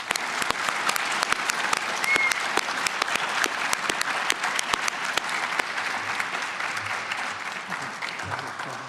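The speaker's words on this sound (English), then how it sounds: "Let's give him another round of applause." Sustained applause from an audience after a presentation at an Asian Heritage Month event, a dense steady patter of many hands clapping that continues without pause throughout.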